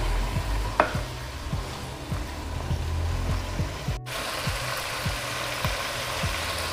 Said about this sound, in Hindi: अच्छे से स्टिर कर लेंगे और 1 से 2 मिनट तक इसे भूनेंगे।